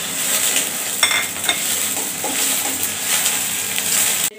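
Ginger and garlic paste frying in a pan for a shrimp curry, a loud close sizzle with a few spoon scrapes and taps against the pan.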